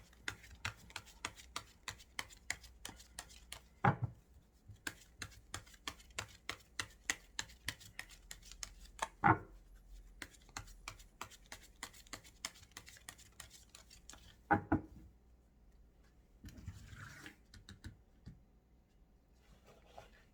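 Tarot cards are handled and drawn in a quiet room: soft, rapid card riffles and slides, broken by a few louder shuffles and thumps, faint and close, with no speech.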